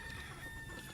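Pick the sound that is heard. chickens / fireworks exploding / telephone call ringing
chickens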